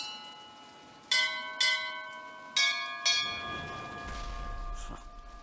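Bell strikes in the Bioshock Infinite video game ring out four times at a steady spacing, each clear metallic toll with a long ringing decay, followed by a low rumbling hum.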